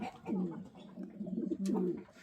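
A racing pigeon with a leg ring coos close by in a soft, throaty, rolling rhythm, several low murmuring phrases with no voices.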